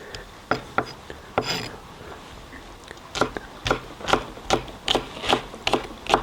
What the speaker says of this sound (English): With the spring onion, I cut the white part of it up fairly finely